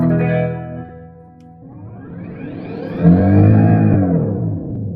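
A loud, heavily processed guitar tone from a Boss GX-10 with analog pedals starts as a sustained chord, dips, then rises into a swirling, sweeping modulated roar with pitch bends.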